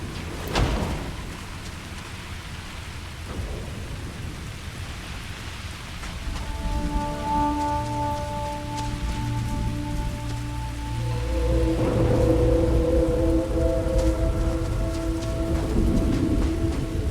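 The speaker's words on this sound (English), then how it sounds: "I'm hearing thunder." Steady rain pours across an alien planet in Starfield, a dense wash of drops with low rumbling that swells toward the end, while sustained musical tones from the game's score rise over it midway; no one speaks.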